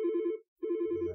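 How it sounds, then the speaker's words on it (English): Wildix standard phone ringtone number 5 plays two short electronic rings with a brief pause between, clear and close, with no one talking. "Standard ringtone is level number 5."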